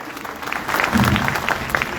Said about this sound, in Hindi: एक बार जोरदार तालियां बजाइए इनके लिए।